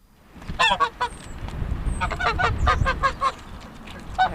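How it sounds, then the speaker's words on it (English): Shetland geese honk repeatedly at close range on a croft on a wild, windy morning, a loud, ragged run of calls with brief pauses, wind rumbling underneath. "The first ones that come up to see us are Shetland geese."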